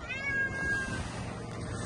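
A cat meows once in a long, drawn-out, fairly loud call, heard close and alone over a low background hum.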